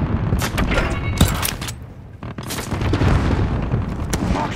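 Dense, loud gunfire in a Call of Duty: Modern Warfare co-op mission, Operation Harbinger: rapid overlapping rifle and machine-gun bursts mixed with heavy booms, continuous throughout with a brief lull near the middle.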